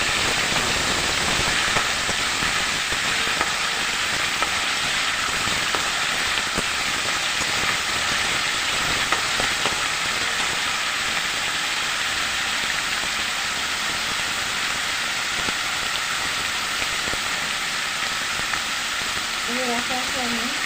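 Doi katla curry, a Bengali yogurt-and-catla-fish dish, stirred in a hot pan, giving a steady broadband sizzle with faint scraping of the spoon throughout, close and continuous.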